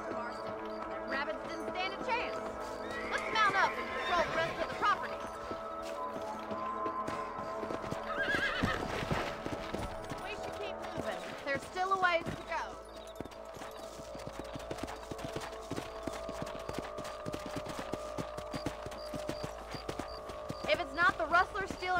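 A horse gallops and neighs in the video game Red Dead Redemption. Pounding hoofbeats run steadily throughout with loud whinnies layered on top, mixed with game sound effects and spoken voices.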